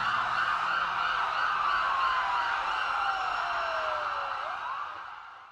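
An ambulance siren wails steadily and fairly loud, its pitch gliding downward, then fades slightly at the end.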